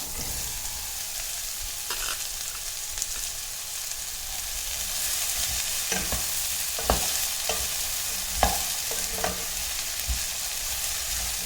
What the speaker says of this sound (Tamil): நல்லா வெண்டைக்காய் வதங்குற வரைக்கும் நம்ம வதக்கலாம்.